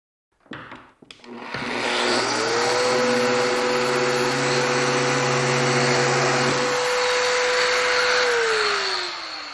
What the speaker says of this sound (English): So we'll start out by drilling those holes.